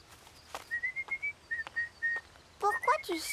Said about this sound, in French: Pourquoi tu siffles?